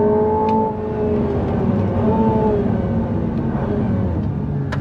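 An Aston Martin Valhalla driven flat out, its engine note heard from inside as a steady loud drone with rising and falling tones under road rumble.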